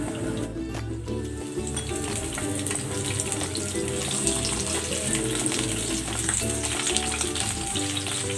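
Shrimp and vegetables frying in cooking oil in a pan: a dense, continuous sizzle with crackling, close and steady throughout, no talking.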